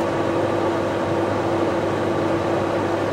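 A 600 watt microwave oven running with its magnetron on, a steady droning hum with a constant tonal buzz, unchanging and alone.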